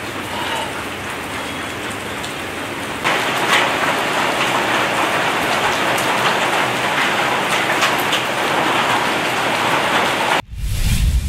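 Heavy sudden rain pours down in Bidar, Karnataka, a dense steady hiss of drops on surfaces that grows louder after a few seconds and continues strongly before an abrupt cut near the end.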